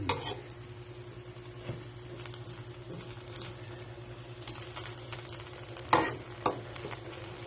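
Chop suey vegetables stirred in a pan, soft scraping and clinks of a utensil against metal over a gentle sizzle, with a couple of louder knocks near the end, no talking.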